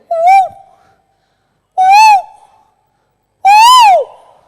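A voice imitates a cuckoo's call on stage at a comedy show: three loud, separate whistled hoots, each swooping up and down in pitch, with silence between them.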